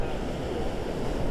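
Strong south wind and pounding surf on Vanderbilt Beach ahead of Hurricane Helene form a dense, steady rush of waves and gusts, loud and continuous throughout.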